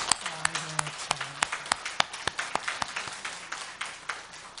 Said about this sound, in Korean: 박수 한번 하요.